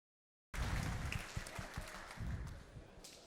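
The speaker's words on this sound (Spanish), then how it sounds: "Un aplauso, por favor" Audience applause at an agricultural conference in Sinaloa, Mexico, starting abruptly and continuing steadily as a dense wash of clapping, moderately close, with faint voices underneath.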